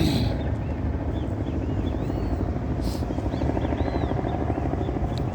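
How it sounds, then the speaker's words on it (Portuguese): Helicopters pass far off, heard as a steady, low, droning rotor rumble that stays even throughout with faint wind noise and no voices. "Você está vendo os helicópteros passando ali? Não, você não está vendo, você está ouvindo, né?"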